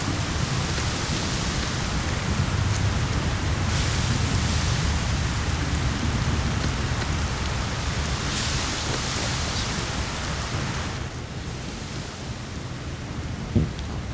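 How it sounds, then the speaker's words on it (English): Steady rain falling in the SimCity 3000 Unlimited video game during an acid rain event, a dense continuous hiss with low rumbling underneath, loud and unbroken throughout with no talk. "Now we got some acid rain here."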